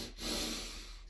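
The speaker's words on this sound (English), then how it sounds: "So when you take a double inhale, it sounds like this." A quiet, close double inhalation through the nose during yoga breathing, a quick double sniff shape, airy and breathy, heard alone without talking.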